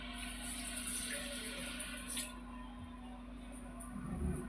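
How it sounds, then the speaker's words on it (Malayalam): Water is poured into a container of soaked soybeans before grinding, a soft running trickle over a steady low hum, close and quiet. "ഇതിലേക്ക് കുറച്ച് വെള്ളം ഒഴിച്ചു കൊടുക്കാം."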